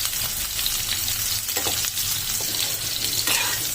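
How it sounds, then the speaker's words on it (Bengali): Pieces of green jackfruit sizzle loudly in hot oil, a close, dense, crackling fry with bursts of spitting and some scraping as they are turned. "ইঁচড়টিকে আমি ভালোভাবে ভেজে নেবো। ইঁচড়টি লাল লাল করে ভেজে নেবো।"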